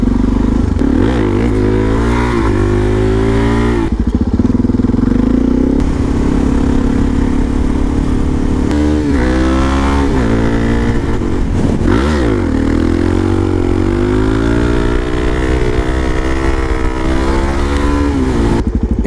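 A DRZ supermoto motorcycle engine roars continuously and loud during a ride, its pitch rising and falling through repeated revs and gear changes, heard close with wind noise and no talking.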